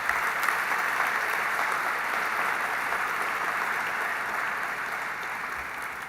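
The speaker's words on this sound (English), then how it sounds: "Let's give Dr. Michael Berenbaum a big round of applause" Sustained audience applause at an exhibition opening evening, a dense, steady clapping from a large crowd that carries on for several seconds and slowly fades a little toward the end.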